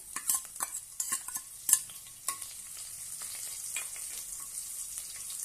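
Crushed garlic added to a pan with cumin and sautéed for a Marathi tandulja leafy vegetable dish, giving a soft steady sizzle broken by several clinking spoon-and-pan stirring knocks early on.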